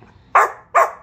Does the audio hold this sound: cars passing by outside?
no